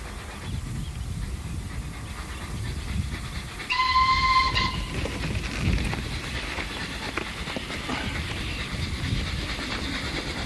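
A steam train rumbles past close by with steady rolling noise, and a brief whistle sounds partway through.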